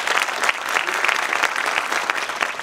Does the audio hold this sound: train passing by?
no